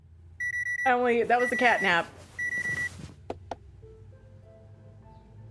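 An alarm clock in a Nancy Drew mystery video game beeps in short, high electronic bursts, once at the start and again after a pause. Someone speaks in between.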